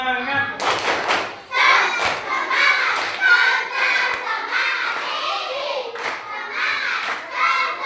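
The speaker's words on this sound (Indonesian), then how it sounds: "coba kita tepuk semangat dulu ya" A classroom of children does a clapping chant, with rhythmic bursts of hand claps mixed with shouted voices and a teacher speaking, moderately loud in a room.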